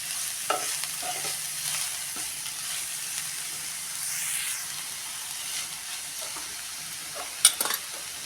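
Fenugreek leaves sauté in a pan with turmeric, a steady sizzle with light stirring scrapes and a sharp clink of a spoon against the pan near the end.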